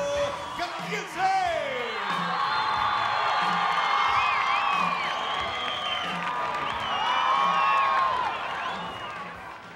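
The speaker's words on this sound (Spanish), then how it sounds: "que se oiga el grito para recibir al ídolo, Vampiro Canadiense" Wrestling arena crowd at a Triple A lucha libre show in Oaxaca, Mexico, shouting, whooping and cheering loudly and steadily for the entering wrestler, with an announcer's voice rising over the roar at the start.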